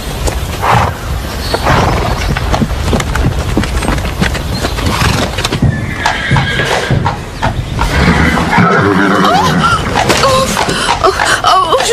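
Horse in a riding-stable scene, hooves clip-clopping with a neigh amid busy, fairly loud background sound for around twelve seconds.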